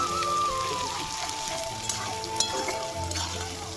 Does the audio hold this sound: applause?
no